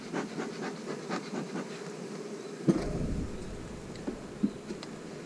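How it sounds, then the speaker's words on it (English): Honey bees buzz around a hive super during a hive inspection, a steady close droning hum with a few louder knocks and thumps from handling the box partway through. "There's quite a few bees here on"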